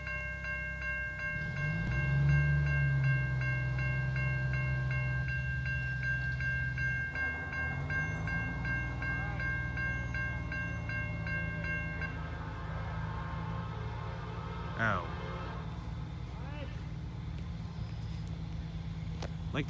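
Norfolk Southern H19 freight train rolling past, a deep continuous rumble of locomotive and wagons with a loud sustained horn blast early on, then steady clattering of cars and brief wheel squeals, no talk.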